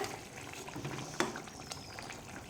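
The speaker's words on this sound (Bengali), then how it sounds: "ঢেকে কিছুক্ষণ ফুটতে দেবো মাছের ঝোল আমাদের ফুটে গেছে" A thin shol fish curry with drumstick and potato bubbling in a covered pot, giving a soft, steady simmering hiss with a few faint clinks.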